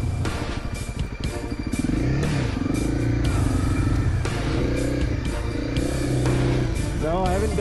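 An off-road vehicle's engine labors and revs loudly in a sand pit on a forest trail, a continuous strained rumble with clattering, rising and falling throughout with voices partly audible over it.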